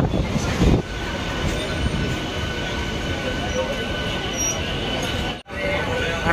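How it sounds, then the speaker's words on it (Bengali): A local train pulling into Kanthi station on the Panskura–Digha line in West Bengal, with a steady loud rumble of rolling carriages and faint wheel squeal. The sound cuts out briefly near the end. "বাজে 10:10 আর ট্রেন এসে পৌঁছেছে কাঁথি স্টেশনে।"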